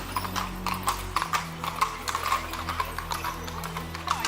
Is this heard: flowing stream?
no